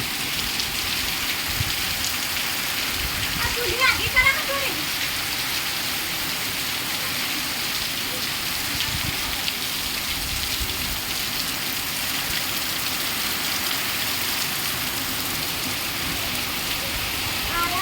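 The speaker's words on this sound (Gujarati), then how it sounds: "ફૂલ વરસાદ જુઓ." Heavy rain pours steadily in a windy downpour over farmland in Banaskantha, a dense continuous hiss with a few faint thuds and a brief voice in the background.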